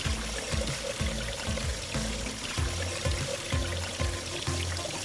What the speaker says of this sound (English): So you want to give it a really good rinse for about a minute.